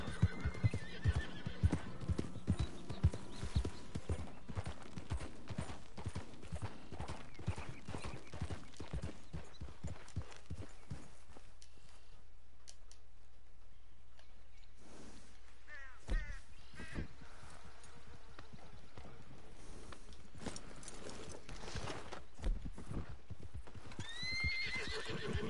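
Rapid clip-clop of horse hooves at a steady gallop in a video game, then a loud neigh, with crow-like caws and a short whinny later on.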